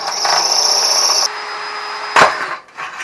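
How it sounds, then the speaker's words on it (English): A power drill bores out rusted exhaust screws on a 2006 Yamaha Grizzly 660 ATV, a loud steady whine for over a second that drops to a lower hum, then a short harsh burst of grinding. "So I'm drilling these screws because they're all rusted and they move out."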